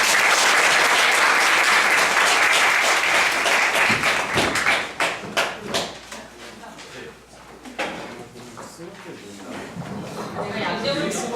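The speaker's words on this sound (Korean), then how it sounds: "오늘 강연 맡아주신 안경수 대표님을 뜨거운 박수로 맞이하겠습니다." A lecture audience claps loudly to welcome a guest speaker, dense applause that thins into scattered individual claps and dies down, with some talk near the end.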